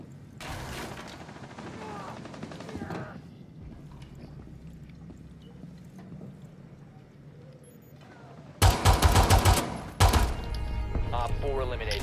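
Pistol and rifle fire in Rainbow Six Siege, scattered shots early under a quieter stretch with voices, then a sudden loud barrage of close rapid gunshots near the end.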